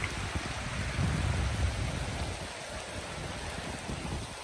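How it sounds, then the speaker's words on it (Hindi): Heavy rain pours down steadily during a stop on a motorbike ride to Saputara, with a dense, continuous hiss and roar that swells slightly early on and then holds with no voices. "देखो देखो कितनी मोटी बारिश हो रही है"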